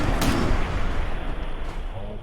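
Shotgun blasts in Fallout 4 boom out loud and near over a dense wash of ongoing game noise.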